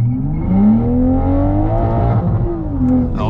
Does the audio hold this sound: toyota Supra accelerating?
yes